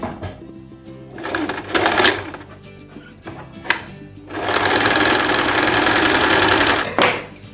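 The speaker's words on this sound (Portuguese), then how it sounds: "Para franzir, eu usei a minha sapatilha normal de costura reta, coloquei a minha tensão da máquina no maior ponto e a largura também no maior ponto." A sewing machine with a straight-stitch presser foot, set to maximum thread tension and maximum stitch length, gathers fabric in several bursts of rapid stitching: a short run, a brief blip, then a longer steady run close by.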